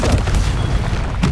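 Confringo blasting spell exploding in the game Hogwarts Legacy, a loud, dense low boom with rumbling that stays continuous across the moment.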